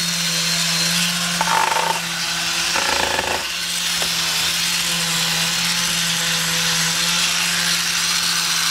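A cordless sander works a flat wooden surface with a steady loud motor whine and grinding rasp, briefly shifting pitch midway as pressure changes, continuous and close with no talk.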